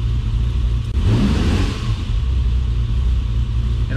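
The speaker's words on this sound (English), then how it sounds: "for a cold car, it sure idles down pretty well with no choke" A cold Ferrari engine runs with no choke, a steady close rumble that swells briefly as it revs around the one-second mark, then settles back to an even idle.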